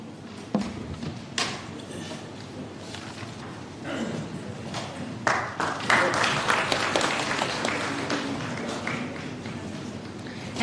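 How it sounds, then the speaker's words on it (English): Applause from a conference audience for a panel of speakers builds from scattered claps and thumps into sustained, fairly loud clapping in a large hall. "May we have a huge round of applause for the panelists."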